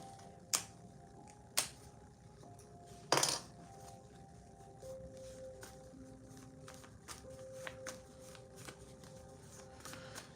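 Tarot cards being shuffled and handled during a money reading, with a few sharp riffling bursts early on followed by softer intermittent taps and slides, fairly quiet with no talking.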